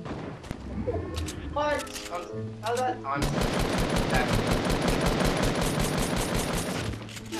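Rapid bursts of video game gunfire crackle loud and close, with a short pause and then a long sustained volley; a player's voice exclaims briefly over the shots.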